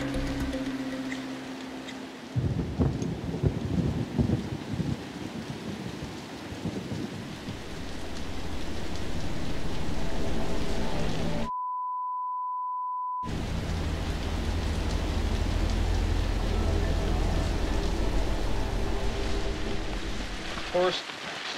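Steady rain falls with low rumbling thunder in rough canyon weather, a dense continuous wash that swells and fades, broken briefly by a short silent gap.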